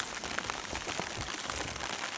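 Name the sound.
rain falling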